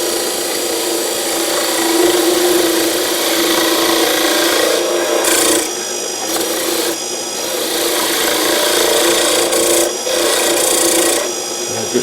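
A skew chisel smooths a spinning wooden table leg on a lathe, giving a loud, continuous scraping rasp that runs nearly unbroken, with only a few short dips.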